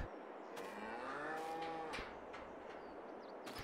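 Cows in the Farming Simulator 22 video game give one long, drawn-out moo with a falling and rising pitch, clear against a quiet background with a few faint clicks.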